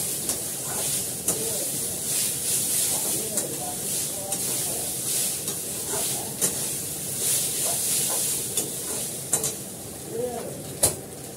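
Chow mein stir-fried in a pan, a steady hiss and sizzle with scraping stirs and sharp clinks of a utensil, while a voice talks over it intermittently.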